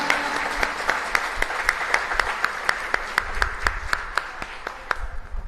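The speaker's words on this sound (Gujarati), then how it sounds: "તેમને તાળીઓથી વધાવી લે જોરદાર તાળીયા" Sustained applause from a crowd honoring elderly residents of an old-age home at a felicitation event, dense steady clapping with sharp individual claps standing out, no voices.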